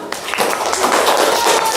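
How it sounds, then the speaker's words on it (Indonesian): A classroom of students claps together in a brief, dense burst of applause, close and fairly loud. "Tepuk tangan untuk kita semua."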